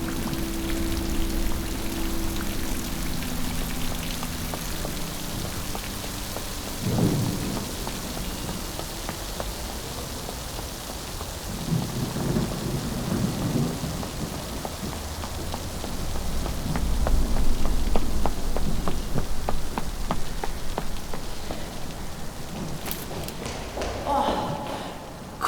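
Rain pours steadily during a thunderstorm in a shopping arcade, with dripping and splashing close by, low rumbles, passing footsteps and people talking at times.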